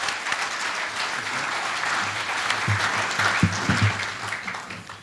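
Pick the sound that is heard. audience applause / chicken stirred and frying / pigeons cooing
audience applause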